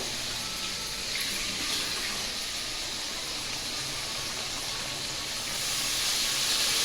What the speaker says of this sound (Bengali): এটা এবার আমি জল দেবো